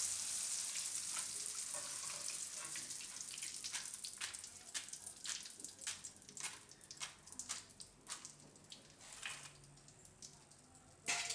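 Slices of sweet potato fry in hot oil, giving a soft sizzling bed broken by irregular crackles and pops that grow busier midway, with a louder rustle at the very end.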